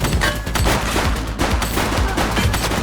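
A suspect opens fire in the police game The Precinct, a loud, sustained volley of rapid gunshots with sharp repeated cracks throughout, close and overwhelming, with no voices.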